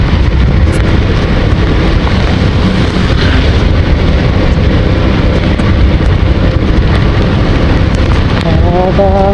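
Steady overnight rain in Baguio City pours down heavily and continuously, a loud, dense hiss of drops hitting surfaces from start to finish.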